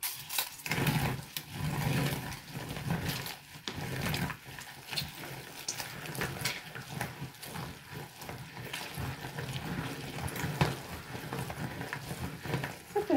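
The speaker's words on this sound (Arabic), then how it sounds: "غادي نطحن الكميه كامله اللي عندي" Electric grinder crushing roasted hot red chili peppers and garlic for Moroccan harissa, a loud, rough, continuous motor whir with uneven grinding fluctuations throughout, no speech.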